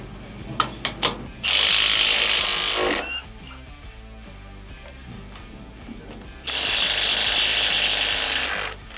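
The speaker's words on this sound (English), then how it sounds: "All we need to do is remove these two bolts here" Removing the two bolts that hold the conveyor on a K4/K5 machine before a 2-way split conversion: a few sharp ratchet clicks, then two long, loud bursts of a power tool spinning the bolts, separated by quieter mechanical rattling.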